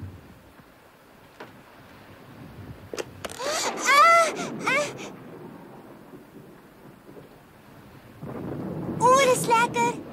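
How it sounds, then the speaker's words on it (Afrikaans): A thunderstorm in an animated children's series: rumbling thunder and rain-like noise swell in two loud bursts, with voices and wailing cries over the storm. "'n donderstorm,"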